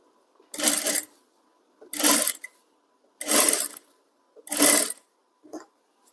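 A nearby sewing machine stitches thread piping onto a designer blouse in four even whirring bursts of about half a second each, followed by a briefer fifth, with silent gaps between and no voices.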